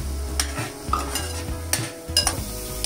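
Onion, coconut and tomato masala sautéed in oil in a pan, with a steady sizzle broken by repeated scraping stirs of a spoon against the metal, close and alone.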